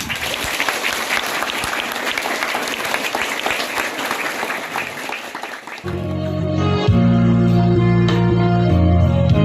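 Dense, loud applause from an audience at an Isra Mi'raj commemoration fills the first six seconds, then gives way to sustained music.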